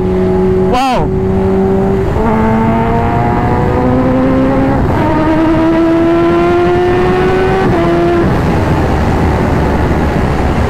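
A Kawasaki H2R sport motorcycle's high-revving engine accelerates hard toward 260–270 km/h, its pitch climbing steadily through several gear shifts, loud and close, with a sharp whoosh near the start.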